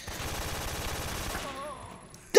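A rapid burst of gunfire plays during a boss fight in the video game Metal Gear Solid 3, repeated shots for over a second, then it fades as an electronic tone sounds and a loud jolt ends it.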